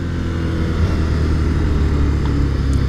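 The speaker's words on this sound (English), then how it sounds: "That is a lot of engine braking." A Suzuki SV650 motorcycle engine braking gives a loud, steady, rumbling drone under heavy deceleration, close and continuous throughout with no voices.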